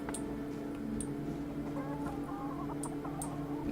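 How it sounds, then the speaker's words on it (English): Chickens clucking on a rooftop in the video game Tainted Grail, several short clucks and squawks spaced across the clip over a steady background hum. "Why are there chickens on the roof?"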